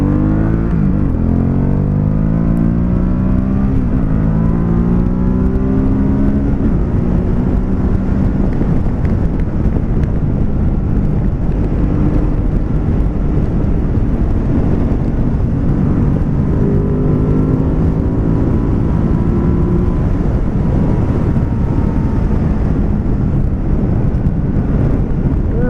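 Ducati Supersport motorcycle from 2017 cruising in top gear at highway speed, a steady loud engine drone with harmonic hum and heavy wind rush throughout, no talking.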